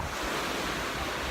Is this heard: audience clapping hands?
no